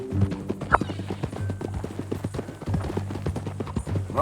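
Hooves of a horse in Red Dead Redemption 2 clip-clop in a steady walking rhythm, close and distinct, with a brief snort or whinny near the start and game ambience underneath.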